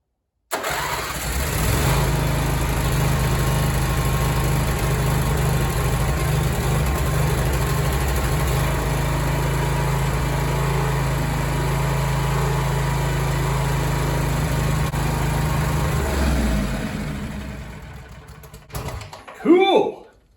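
A small engine in a shop, belted to a transaxle with the belt removed, runs at a steady loud idle for about fifteen seconds, then shuts off. Brief clunks and handling noises follow.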